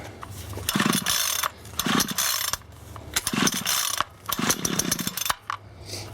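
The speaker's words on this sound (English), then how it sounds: "we'll give a couple of tugs on the old recoil, and we'll see if she'll start for another season." The recoil starter cord of a small engine is yanked several times in a row, each pull a rough ratcheting rasp close to the mic, with brief pauses between tugs and no start.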